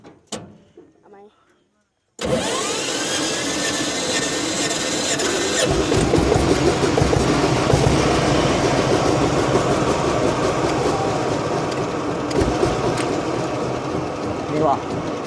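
A tractor engine turns over and catches after a short pause, then settles into a loud, steady rattling idle with metallic squeals and a continuous mechanical drone, close by, with faint talk at the start.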